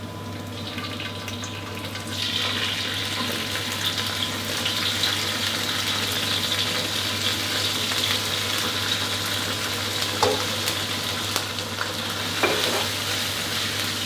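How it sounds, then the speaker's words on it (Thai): Fermented soybean paste and garlic stir-fried in a wok over medium heat, a steady sizzle with scraping stirs throughout, rising after the first two seconds and holding loud and close, with occasional louder clinks. "ผัดให้เต้าเจี้ยวออกกลิ่นหอมเช่นกันครับ"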